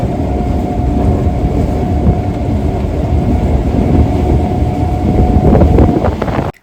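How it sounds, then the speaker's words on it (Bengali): A 4:22 Goghat local passenger train out of Howrah keeps up a constant heavy low rumble of wheels on track, with wind buffeting over it, recorded on board and loud for several seconds. "আমাদের ট্রেন ছিল চারটে বাইশের গোঘাট লোকাল"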